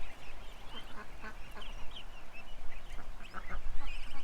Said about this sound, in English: That's the Muscovies that fly over the fence.